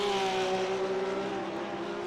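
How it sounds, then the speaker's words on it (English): A race car roars steadily past in a sim racing esports endurance event at the Nürburgring, its engine a loud, sustained whine that holds close and fairly level before easing slightly as it moves on. "that was the Team Bernhard car going past."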